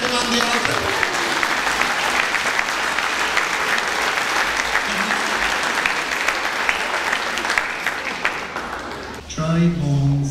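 An audience applauds choirs from Duhallow and Cill na Martra at a Kilnamartyra performance, a dense sustained ovation lasting about nine seconds that thins out near the end as voices take over.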